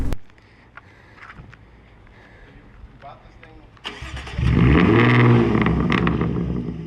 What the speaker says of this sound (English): This is the first time I've heard it with straight pipes.